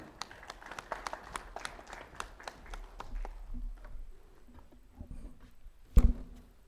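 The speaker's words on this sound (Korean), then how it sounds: "총동무회장님께 큰 박수 부탁드립니다." At a Yongin University presidential inauguration ceremony, the audience applauds. The clapping is brisk at first, then thins out and fades, and a single dull thump follows near the end.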